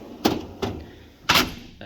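Drawer of a Snap-on Epiq 84-inch tool box sliding shut, three sharp close-up thuds spaced apart with a faint click at the end, no talking.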